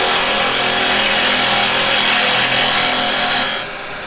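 A woodturning lathe cuts into a spinning piece of wood, giving a loud, steady, hissing, tearing roar close by that drops away near the end as the tool lifts off.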